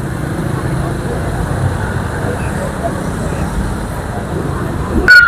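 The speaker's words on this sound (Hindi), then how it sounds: "सिर्फ उन गाड़ियों को निकाला जा रहा है जिन गाड़ियों की वजह से यहाँ पर ट्रैफिक जाम है।" Steady roadway noise from idling and slow-moving cars packed into a jammed car market in Taxila, a continuous rumble of engines with a brief louder surge at the very end.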